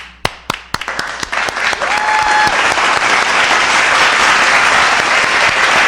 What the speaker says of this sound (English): Let's clap it up. Clap it up, folks.